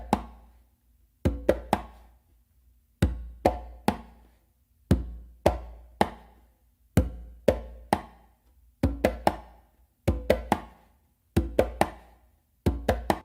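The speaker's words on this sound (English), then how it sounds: "you're going to do a close slap with your dominant hand on the conga." Conga pattern of a low bass thump followed by sharp palm and close slaps, repeated in a steady groove many times, played alone and up close.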